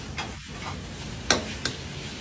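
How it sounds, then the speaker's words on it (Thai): Water mimosa tossed quickly with garlic in hot oil, a soft steady sizzle with a few sharp scraping clinks of a spatula against the pan. "เราใส่ผัดกระเฉดแล้วก็ผัดผัดผัดผัดผัดอย่างรวดเร็ว"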